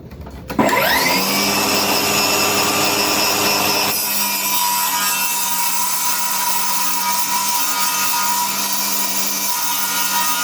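A power saw ripping a laminate floor plank lengthwise for a bathroom floor install: the motor spins up abruptly and then holds a loud, steady whine with a continuous cutting drone for the remaining ten seconds.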